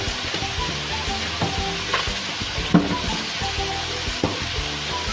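Whole spices, cinnamon and black peppercorns, sizzle in hot oil for chicken masala, a steady close crackling hiss broken by a few small pops and stirring knocks.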